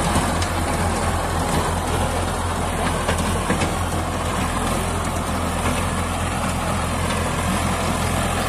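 A New Holland 3230 42 HP tractor drags a 7 ft rotavator through dry, dusty field soil, its diesel engine a steady, loud, close rumble with churning rattle that never lets up.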